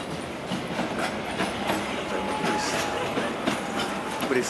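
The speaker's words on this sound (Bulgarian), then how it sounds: "Ето го влака идва." A train rolls into the station at Drvengrad, Serbia, with a steady rumble and rhythmic clacking wheels, a faint squeal, and people talking nearby.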